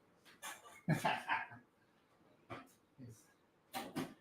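A dog whimpers in a series of short, soft, whiny cries spaced irregularly, with quiet pauses between them, close by in an indoor setting.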